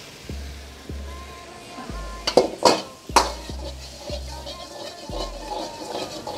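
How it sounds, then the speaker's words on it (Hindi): Vegetables sautéed in butter in a pan for a chicken sizzler, with metal utensil clinks and scrapes and a soft sizzle underneath, plus repeated low thumps. "ये वेजिटेबल्स डालने के बाद हम इसके अंदर डालेंगे थोड़ा सा बटर और उसको इसके अंदर कर लेंगे हम सॉटे।"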